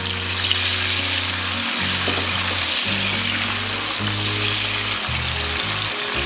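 Chopped shallots fry in hot oil for sambal terasi, a loud, dense, continuous sizzle with a low hum running underneath and no voices.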